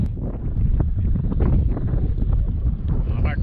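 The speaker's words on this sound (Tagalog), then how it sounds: "Sobrang lakas na lang hangin." Strong wind buffeting the microphone outdoors, a steady loud roar with gusting rumble throughout and a voice faintly underneath.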